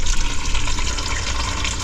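A tap gushes water steadily into a tank, a dense continuous rush with small splashy fluctuations, close and fairly loud, with no voices.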